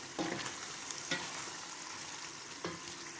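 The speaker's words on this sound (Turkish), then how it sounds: "Güzel kavruldu." Meat for Turkish kavurma sizzles steadily in a pan, with a few sharp scrapes as it is stirred.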